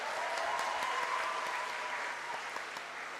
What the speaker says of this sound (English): Let's have some more applause for our valedictorian.